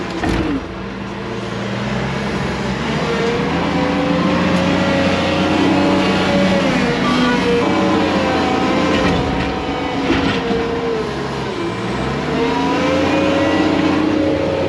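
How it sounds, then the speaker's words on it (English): A tanker rig's engine runs loudly and steadily on a farm during second-cut silage, a close, continuous rumble with slow swells in engine pitch and no talking. "This is some tanker, so it is."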